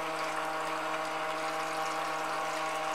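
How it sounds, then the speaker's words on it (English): Water runs steadily from the faucet of a Minnie Mouse toy kitchen play set, a continuous soft hiss and trickle that stays even throughout, faint and close with no voices. "You turn on the faucet."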